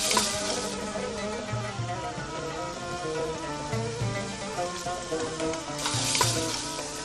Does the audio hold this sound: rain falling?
no